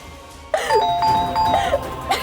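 A two-tone doorbell chimes indoors in a Hindi television sitcom household, its ding-dong ringing clearly and repeating a couple of times with no talk over it.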